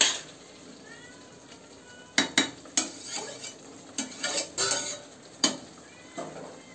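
Metal clinks and clatters as a lid is set over a pot of mutton cooking, several sharp knocks in a short cluster against a quiet kitchen background.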